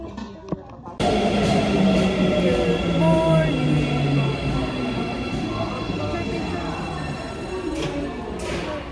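A train in Osaka, Japan, rumbles and whines loudly from the inside as it moves. Brief quiet noises come first, then the ride starts abruptly, with rising and falling motor tones and steady wheel noise.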